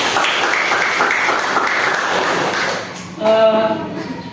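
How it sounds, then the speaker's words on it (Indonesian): A classroom of students claps in a sustained burst of applause for about three seconds, after which it fades and a teacher's voice begins speaking. "Oke, tepuk tangan dulu nak."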